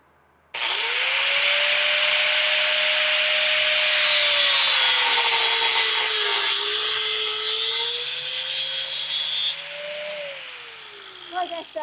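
Rivet stock for a pair of wolf jaw blacksmith tongs being cut, a loud, close, steady grinding rasp that runs unbroken for about ten seconds and then stops abruptly.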